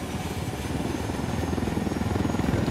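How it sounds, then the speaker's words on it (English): A helicopter's rotor chops in a steady, rapid pulse in the video game Tom Clancy's Ghost Recon Wildlands, growing slightly louder and closer, with no voices. "Helicopter inbound."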